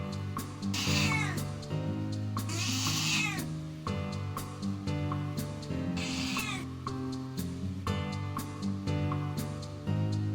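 Gina, a pet cat, meows repeatedly for food in a run of loud, close, drawn-out calls with short pauses between them, and no talking over them.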